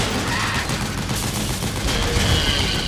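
Sustained machine gun fire from an APC-mounted gun in Metal Gear Solid 4, a dense continuous rattle of rapid shots that stays loud throughout, with no pauses or voices.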